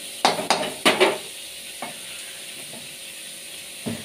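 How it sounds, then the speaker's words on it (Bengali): Onions frying with whole green chillies in a pan, a low steady sizzle under a few sharp stirring scrapes and clinks, with one more stir near the end. "তাই জন্যে একটুখানি লাল লাল করে পেঁয়াজটা ভেজে নিচ্ছি।"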